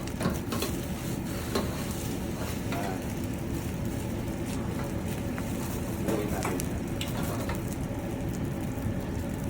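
Tortang lechon fries in a wok with a loud, steady sizzle throughout, broken by a few brief clatters and scrapes as it is handled and flipped. No one speaks.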